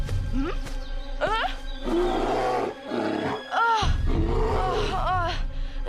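Deep, throaty bear growls and roars repeating in rough bursts, loud and close, with brief pauses between them.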